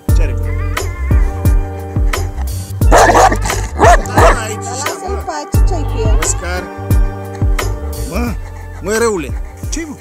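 Caucasian shepherd guard dogs bark in several loud, close bursts outdoors, mixed with yips and whimpers as someone talks over them.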